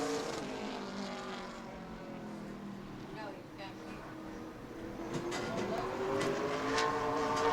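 A super late model race car runs around a speedway during qualifying, its engine a moderate roar that rises and fades with distance beneath a commentator's voice over the public address.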